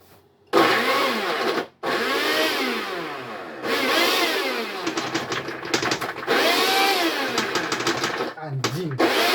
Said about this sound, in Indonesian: bahan-bahannya udah dimasukin blender, dan ini harus di blender sampai halus.